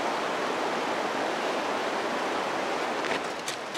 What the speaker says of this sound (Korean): 베이스캠프 계곡 쪽에서 흐르는 빙하물은 뭐가 그리 즐거운지 졸졸졸졸 수다를 떨며 흐르고 있었습니다